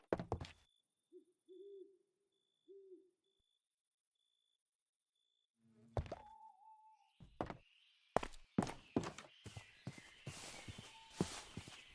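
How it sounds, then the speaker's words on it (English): Owls in Minecraft give two or three short, low hoots early on, spaced apart over a faint high hum, followed by sharp clattering steps and knocks with no one talking. "I can hear the owls twit-twirring."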